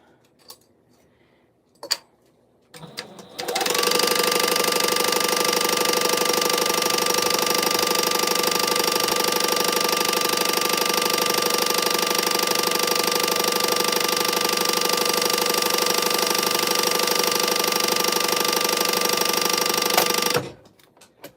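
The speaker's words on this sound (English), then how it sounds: "Making a bobbin, push the button." A sewing machine winds a bobbin in a loud, steady, even whir that holds for about seventeen seconds and then stops abruptly, preceded by a few light clicks and taps.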